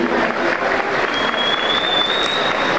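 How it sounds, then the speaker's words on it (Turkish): A festival crowd at Seferihisar's tangerine festival applauds loudly and continuously, a thick wash of clapping with a thin high whistle-like tone rising through the middle. "Seferihisar Belediye Başkanımız Sayın İsmail Yetişkin'i de kocaman alkışlarla davet ediyorum."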